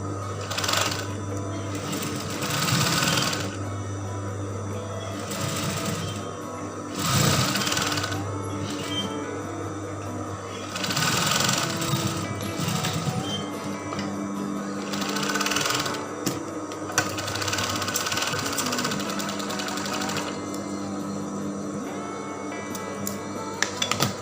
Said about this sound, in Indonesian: Lalu ini nanti kita jahit.